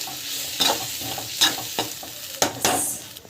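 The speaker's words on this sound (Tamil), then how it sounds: "நல்லா பச்சை வாசம் போகிற வரைக்கும் நல்லா வதங்கணும்." Vegetables being sautéed and stirred in a frying pan for a home-cooked recipe: soft sizzling throughout with a few sharp scraping stirs of the utensil against the pan, close up with no talking.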